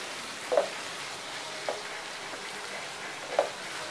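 Egg fried rice mixture with soy sauce frying in a pan, a soft steady sizzle with three faint utensil taps from stirring, no voices.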